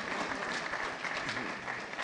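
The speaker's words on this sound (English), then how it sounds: "Please, a round of applause." A hall audience at a Council on Foreign Relations Ghana book launch breaks into steady, dense applause, loud and continuous throughout, with a faint murmur of voices beneath.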